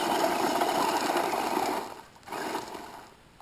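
A remote control truck's electric motor whirs loudly at full throttle on a dying battery, a busy mechanical whine that holds for about two seconds, drops away, then briefly surges again before fading.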